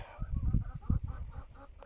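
Laying hens on a small farm clucking nearby, a handful of low, throaty, repeated clucks in an uneven rhythm at moderate loudness.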